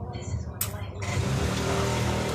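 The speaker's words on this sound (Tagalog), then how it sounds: "Ay, may motor pa sa labas. Narinig nyo." Motorcycle engine revving outdoors, a rising throaty roar that swells after a brief quieter stretch with a hiss, heard at a moderate distance.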